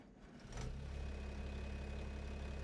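A harvester engine in the farming game Farming Simulator 25 starts up and settles into a loud, steady low rumbling drone that holds constant to the end.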